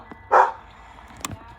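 A dog gives one short, loud bark close by, followed by fainter rustling and a brief knock in a quiet room.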